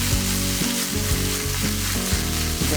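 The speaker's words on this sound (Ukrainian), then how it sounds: "Вони вже зразу почали піджарюватися." Steady, loud sizzling of mushrooms frying in a hot pan, with rhythmic scraping as they are stirred.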